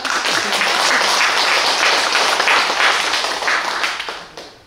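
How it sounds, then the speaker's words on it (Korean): Audience applause during a Buddhist sermon at a temple: a full room clapping steadily and loudly, holding for several seconds before fading out at the end. "박수 한번 쳐드리세요."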